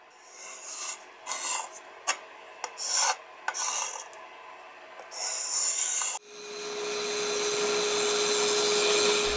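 Cutting the corners off a segmented wooden flower pot blank makes intermittent rasping strokes, followed by a steady, loud, continuous cutting whine with a clear tonal hum.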